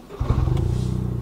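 A Toyota GR car with no exhaust valve starting up, heard from inside the cabin: a short starter whirr catching into a loud, rough idle with a steady low throb, alone.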